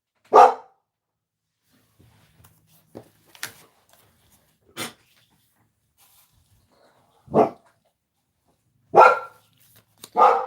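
A dog barks in short, separate bursts spread over several seconds, loud and close, with quiet gaps and a few faint shuffling sounds between barks.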